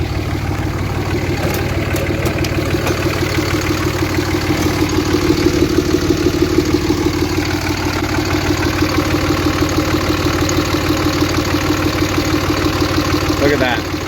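A Cummins diesel engine idles with cylinder 4 shut off, a loud, steady, close-up rumble with an uneven rhythmic chug running throughout.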